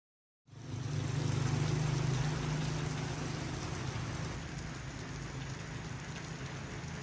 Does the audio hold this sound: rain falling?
yes